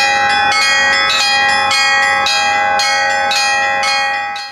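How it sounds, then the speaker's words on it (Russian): Church bells pealing at a bell ringers' festival in Chuvashia, Russia, struck loudly in a quick irregular rhythm of overlapping rings, close and continuous with no talk. "А у каждого колокола есть не только свой голос, но и название."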